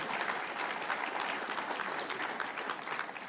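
Conference audience applause, a steady wash of many hands clapping at moderate distance, continuous and even for a few seconds with no talk over it.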